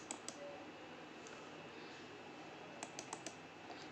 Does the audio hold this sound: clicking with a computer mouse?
yes